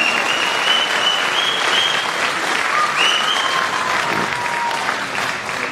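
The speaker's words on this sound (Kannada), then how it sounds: "ಅಲ್ಲಿ ಚಪ್ಪಾಳೆ." Audience at the Chandanavana Critics Awards 2025 ceremony applauding steadily and loudly for an award winner, sustained dense clapping with a faint tonal background sound running underneath.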